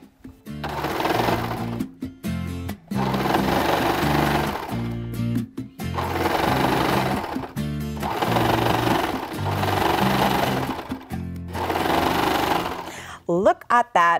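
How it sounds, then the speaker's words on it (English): Serger stitching around a knit neckband in a circle, heard as a loud steady mechanical whir running in several long bursts with brief pauses between them, with a short rustle of fabric at the end. "I'm just gonna take this back to my serger and stitch around in a circle"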